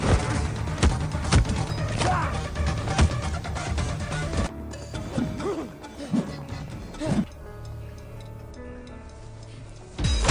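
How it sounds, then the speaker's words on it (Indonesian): A glass is dropped and smashes in a martial-arts action film, a sharp crashing burst heard amid a dense mix of thuds, impacts and score, followed by a few more hard hits that fade into a quieter stretch. "ia tak sengaja menjatuhkan gelas dan pertarungan pun dimulai kembali"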